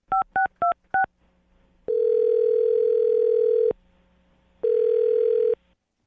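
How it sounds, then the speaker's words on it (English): Four quick touch-tone telephone keypad beeps as a number is dialed, then a long steady ringback tone, a pause, and a second ring, loud and clean with no talking. "I'm going to dial his phone number right now."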